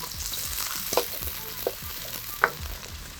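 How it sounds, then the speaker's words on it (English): Onions sizzling in hot oil with crispy golden garlic, a steady close frying hiss broken by a few stirring clinks from a spoon against the pan. "I want to get my onions in as soon as I start to see some color"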